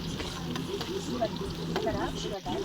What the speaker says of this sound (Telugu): ఆయిల్ వేడెక్కిన తర్వాత జీలకర్ర, తర్వాత ఆనియన్స్ వేసిన తర్వాత కొద్దిగా వేయించుకోవాలి లైట్గా